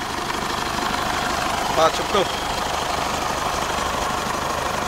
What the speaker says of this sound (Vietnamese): Và đây em có quan sát cái khối động cơ của chiếc xe này.